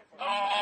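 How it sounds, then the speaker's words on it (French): A goose about six months old gives one short, close, nasal honk at a farm raising geese for foie gras and down feathers, heard alone without talk. "Là, c'est des oies qui approchent 6 mois."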